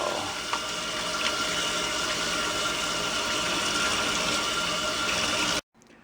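Steady rush of tap water rinsing baking soda off kale, a continuous broadband splash close by that stops abruptly near the end.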